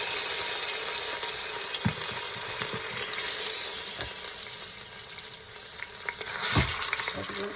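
Pork sears in a hot pot with a steady, close sizzle and crackle, broken by a few soft knocks and scrapes as the meat is turned over.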